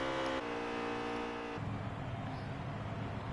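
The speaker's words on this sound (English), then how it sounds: "Riding along with him, you can hear his throttle." Onboard sound of the number 9 race car's engine, a harmonic whine that shifts pitch and then drops to a rougher, lower drone as the driver changes throttle, moderately faint.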